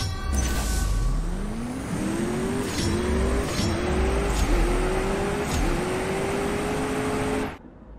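A car in the CSR Racing 2 video game accelerates hard through a drag run, the engine rising in pitch and dropping with each of several rapid gear shifts, loud and steady before cutting off abruptly at the end.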